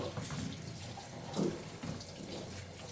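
Tap water runs steadily over vegetables being washed by hand in a home sink, a continuous close splashing with a few brief louder swishes as the produce is moved under the stream.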